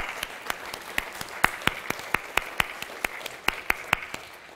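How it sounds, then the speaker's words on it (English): Sparse, unhurried applause from a small conference audience honouring the sponsor of a Friday-night party, with individual claps standing out distinctly in a steady patter, moderately close. "Give them another round of applause for that"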